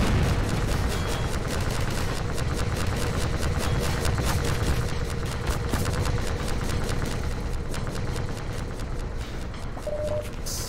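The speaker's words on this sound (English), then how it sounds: "a lot of people are shooting at this thing" Heavy gunfire from many shooters in Half-Life 2, a dense continuous rattle of rapid shots and bursts at steady loudness with a music score underneath, no talking.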